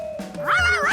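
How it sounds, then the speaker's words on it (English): A cartoon dog gives a single short, high yipping bark, close and fairly loud, rising in pitch for about a second. "A barking Charky was even worse than a puddle"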